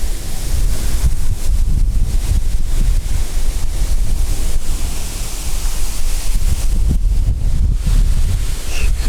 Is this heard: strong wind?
yes